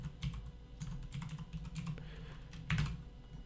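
Someone types a web address on a computer keyboard, a close run of quick, light key clicks with a slightly louder keystroke near the end and no talking.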